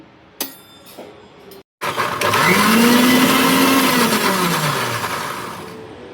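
Tomatoes for rasam are ground in a mixer grinder, preceded by a few clicks and knocks. A loud whirring roar then starts, rises in pitch and slowly winds down over several seconds.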